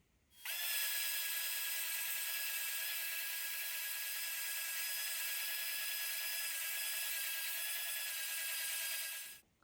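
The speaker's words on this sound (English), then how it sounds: "now we're going to sand up to the line using the bobbin sander" A bobbin sander grinds along the edge of a tortoiseshell celluloid pickguard for a Telecaster Thinline guitar, giving one continuous hissing, abrasive whir of about nine seconds that starts and stops abruptly.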